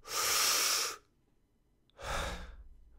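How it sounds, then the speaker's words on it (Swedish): A long, maximal deep breath drawn in close to the mic during a spirometry breathing demonstration, a pause of near silence, then a second shorter breath sound. "Sen kan vi ta ett riktigt djupt andetag, allt vad vi pallar"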